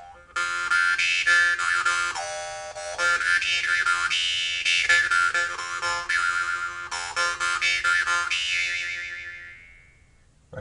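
Standard-size Dan Moi jaw harp twanging alone, up close and fairly loud, with a steady drone and shifting overtone sweeps in a quick rhythmic pattern before ringing out and fading.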